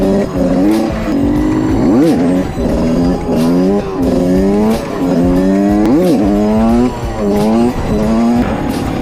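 Cars racing at Frihamnen 2025, loud nearby engines revving up and down through repeated gear changes while tires squeal and skid, a continuous roaring pass with no talking.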